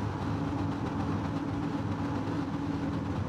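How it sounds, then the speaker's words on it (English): Race car engines in a touring car championship video game drone and rise together at the start, a dense, steady mechanical roar with no talk over it. "The engine notes rise and so does the excitement."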